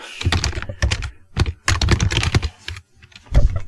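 Fast bursts of clattering keystrokes on a computer keyboard, close and clear, broken by short pauses between runs of typing.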